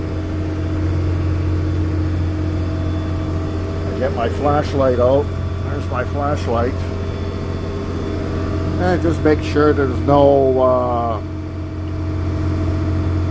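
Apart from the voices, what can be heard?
boat engine running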